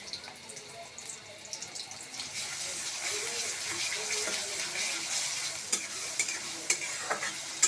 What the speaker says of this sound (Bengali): আমি পেঁয়াজটা একটু নরম করে ভেজে নিছি